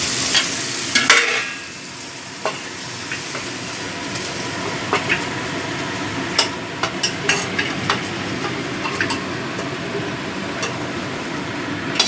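Mutton for biryani being stirred and fried in a pan, a steady sizzle with repeated scraping stirs and clinks of a utensil throughout, close and fairly loud.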